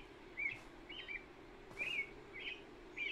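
A bird calls in a forest with short, clear whistled chirps repeated about five times at irregular intervals, moderately distant over a quiet, faint background hum.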